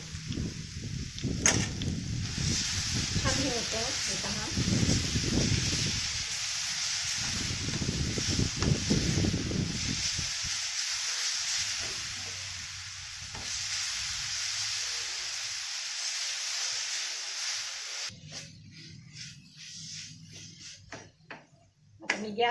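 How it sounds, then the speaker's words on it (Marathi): Modak filling of coconut and jaggery sizzling and being stirred in a pan with a little ghee, a steady soft hiss with scraping spoon strokes, fading to quiet frying. "हे पहा छान परतले गेलेलं आहे सारण"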